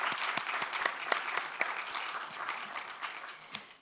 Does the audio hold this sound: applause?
yes